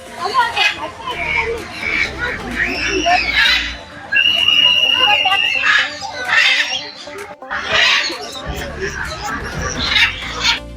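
Birds in a large park aviary squawk and chatter busily at feeding time, a dense, lively chorus of close, overlapping calls with people talking in between.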